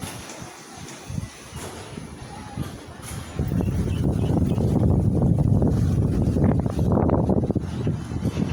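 Strong wind under dark clouds before rain sweeps through a home garden, starting light with a few gusts and then rising into a loud, continuous roar buffeting close to the microphone.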